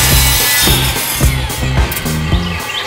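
Power saw cutting wood for a built-in bookshelf frame, a loud rasping buzz broken into repeated short strokes about every half second, close and continuous throughout.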